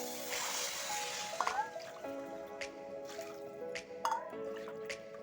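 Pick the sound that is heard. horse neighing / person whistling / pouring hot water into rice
pouring hot water into rice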